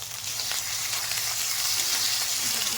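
Ginger, tomato, green chili and cumin fry in hot oil in a pan, making a continuous bright sizzle with soft stirring sounds, heard close and alone.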